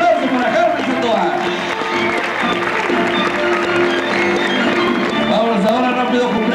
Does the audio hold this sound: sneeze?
no